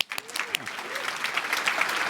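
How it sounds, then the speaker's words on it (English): An audience breaks into applause at a design conference session, a dense, steady patter of clapping that builds and holds with a few louder claps and voices mixed in. "Give them a round of applause."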